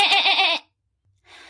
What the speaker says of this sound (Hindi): तभी चीनू बकरी मिमियाने लगती है।